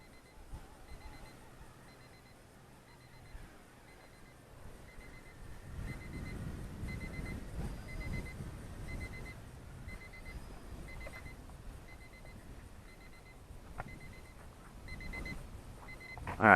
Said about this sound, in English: turn my timer off